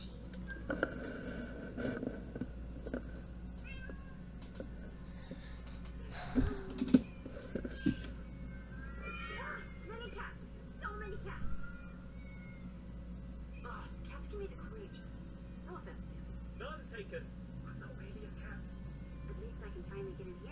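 Cats meow in the video game Minecraft Story Mode, a few short mewing calls over a low steady game hum while a player talks quietly at times.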